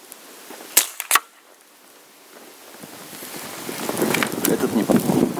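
Two sharp, close gunshots crack in quick succession in a winter-survival game, followed by a rising patter of rain-like noise, with no talking.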